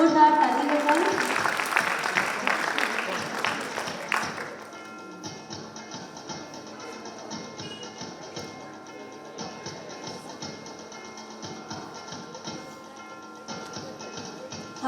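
An audience at a National Youth Day event at the Maha Kumbh in Prayagraj claps loudly for a few seconds, then the applause fades into scattered taps and light knocking under a quiet room tone.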